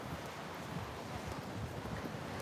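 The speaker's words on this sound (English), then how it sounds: "It's very windy." Strong beach wind buffets the microphone in a constant low rumble and roar, with a broad rushing hiss throughout.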